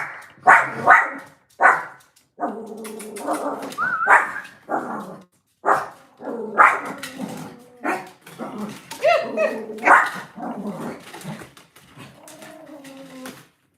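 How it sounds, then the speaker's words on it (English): A house dog barks and yips in repeated sharp bursts at close range, mixed in with a person talking over and between the barks. "One thing this dog is going to do is get the last bark out."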